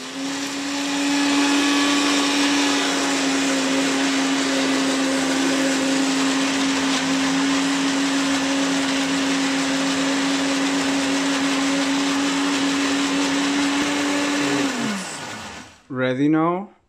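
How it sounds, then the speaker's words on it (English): A blender blending laksa paste whirs loudly and steadily for about fifteen seconds, then slows and stops, followed by a brief voice. "And you can start blending,"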